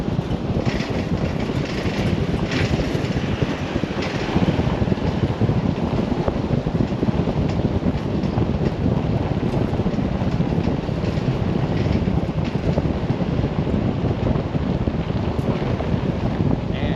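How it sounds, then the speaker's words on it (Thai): Waterfall at an undeveloped tourist spot in Laos, a steady, loud roar of rushing water that continues without a break for the whole stretch, with no talk over it. "นี่ก็คือเป็นสถานที่น้ำตกครับ"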